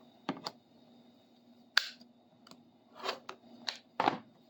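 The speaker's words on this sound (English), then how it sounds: "let's cut one for you here. Three-quarter inch square." Scissors snipping a three-quarter inch square of material for a rivet washer, giving several short, crisp cuts in an irregular rhythm, close and fairly quiet, with no talking.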